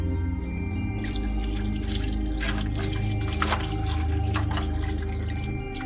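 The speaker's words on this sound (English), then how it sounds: "Apple cider vinegar. Pour." Apple cider vinegar pours steadily into a container of eggs, a close, continuous liquid trickle with small splashes running throughout.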